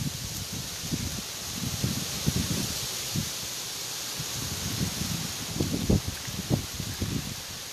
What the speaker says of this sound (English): just in case there's another gust of wind or two before I end the video